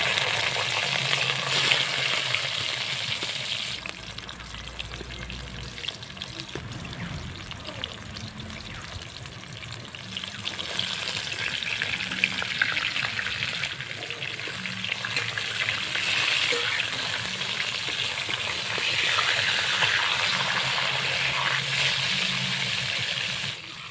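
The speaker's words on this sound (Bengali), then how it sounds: "যে দু পিস ছিল ভেজে নিচ্ছি" Pieces for cabbage masala frying in hot oil in a pan, a steady, close sizzle with bubbling and occasional stirring, rising and falling in intensity.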